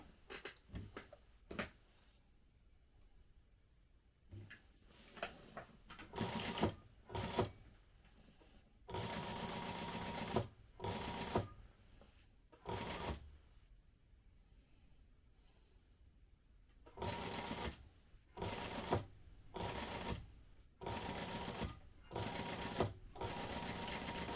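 A sewing machine with a zipper foot stitches a crossbody bag in repeated bursts of close whirring. Some runs are short, others last several seconds, with quiet pauses between.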